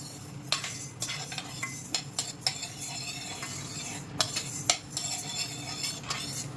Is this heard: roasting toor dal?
yes